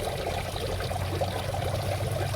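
Water running at a parking area while laundry is washed by hand, a continuous close splashing flow with a low steady hum beneath.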